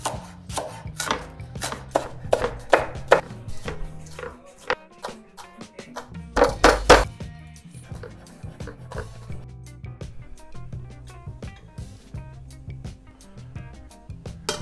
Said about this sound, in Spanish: Lo que voy a hacer ahora es picar todo